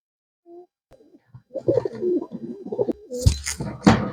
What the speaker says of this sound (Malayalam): ഈ ഒരു പ്രാവ് കോയമ്പത്തൂര് പറകം പ്രാവാണ്